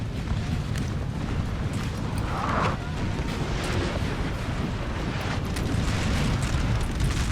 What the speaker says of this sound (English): despite the artillery firing on their position right now